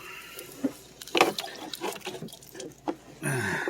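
Coolant drains from a hose on a 2015 Jeep Wrangler Rubicon 3.7L into a bottle, with irregular splashes, drips and short gurgles before a steadier pouring rush at the end.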